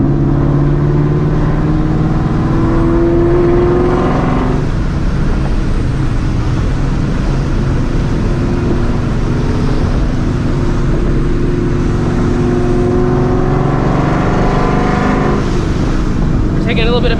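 Straight-piped supercharged 2004 Mustang GT engine heard from inside while driving, a loud continuous raw exhaust drone with rising and falling revs and supercharger whine throughout, echoing off nearby walls.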